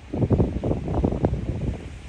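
Strong wind gusts buffet the microphone in loud, rumbling bursts on a sea cliff on Tung Lung Chau, Hong Kong, with a rushing, roaring texture and no voices.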